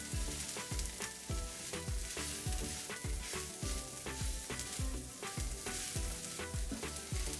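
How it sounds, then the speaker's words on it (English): Salt, pepper, coriander and cumin powder fry in a pan for an eggplant raita, a continuous sizzle broken by quick, regular scraping strokes of a spoon. "We're going to fry this a little bit."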